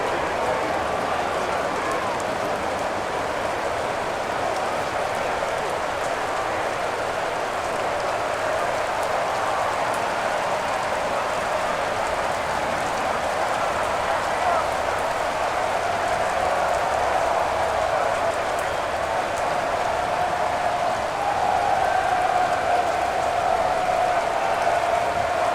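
Rain falls steadily on a simulated NFL stadium in Madden NFL 21, Dallas Cowboys against Philadelphia Eagles, as a constant broadband hiss that runs unbroken under a commentator's voice.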